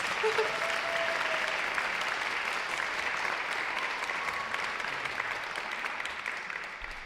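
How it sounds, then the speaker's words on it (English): Steady, sustained applause from a sizable crowd at an awards event, the clapping slowly thinning toward the end, with no voices standing out. "can I get a round of applause for our donors?"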